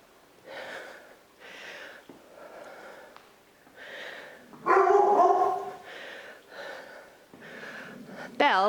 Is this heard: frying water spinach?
no